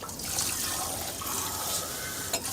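Water runs steadily from a tap while hands are washed with soap, a continuous hissing splash close by with a brief knock near the end and no speech.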